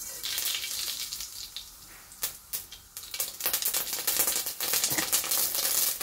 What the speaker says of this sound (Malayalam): ഇനി നമുക്ക് കടുക് ഇട്ട് കൊടുക്കാം.